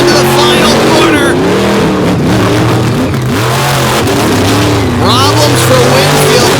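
Racing trucks at Lake Erie roar through a corner in an All Stars event, engines revving and rising in pitch as they pass close and loud, with a commentator talking continuously over the engine noise.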